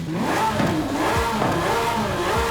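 A Lamborghini Sián Roadster engine with twin turbos in Forza Horizon 5, revving hard and steadily, with a slight whooshing turbo tone woven into the rumble, loud and continuous throughout.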